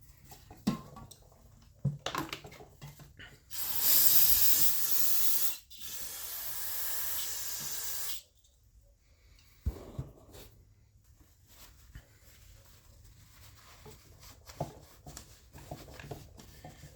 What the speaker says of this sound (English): A little bit of parts cleaner.